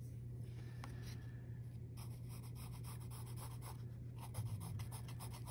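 Pencil shading a still life drawing on paper makes a faint, continuous scratchy rubbing under a low steady hum, with soft strokes repeating throughout.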